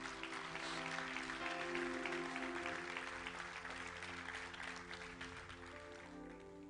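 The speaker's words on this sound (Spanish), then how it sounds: "Denle un fuerte aplauso a Dios." Church congregation applauding during a sermon, dense continuous clapping with sustained music tones beneath, gradually easing in loudness.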